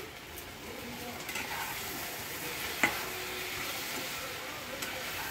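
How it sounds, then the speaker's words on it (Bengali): A spice paste of Kashmiri red chili powder fries in a pan and is stirred, a soft continuous sizzle with faint scraping and one brief sharp clink partway through, fairly quiet. "মশলাটাকে ভালো করে কষতে হবে।"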